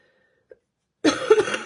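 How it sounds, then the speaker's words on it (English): Silence broken by a tiny click, then a single harsh cough burst close by, rough and throaty, lasting about half a second. "Sorry for that coughing."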